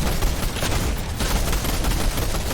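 Gunfire in a Fortnite-style battle royale match, a dense, continuous barrage of shots and explosive bursts filling the whole stretch at steady loudness, with no distinct single sniper crack standing apart.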